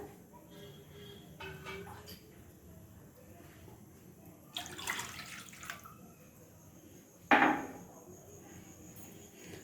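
Quiet kitchen sounds, then two short bursts of water pouring or splashing into a kadai on a gas stove, the second louder and more abrupt.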